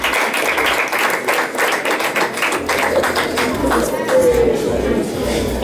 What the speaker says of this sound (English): if you wouldn't mind giving the parents a round of applause, please, for everything they do for you